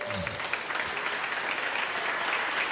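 Church congregation breaking into sustained applause during a worship service, a dense steady wash of many hands clapping throughout, with a brief voice at the start.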